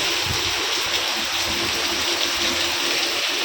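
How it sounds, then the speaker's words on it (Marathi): Steady rain pours down outdoors in a continuous, dense hiss with no break, fairly close and even in loudness throughout, no voices. "आला बाबा पाऊस"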